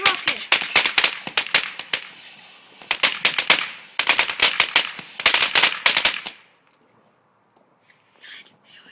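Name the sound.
homemade firework rocket launching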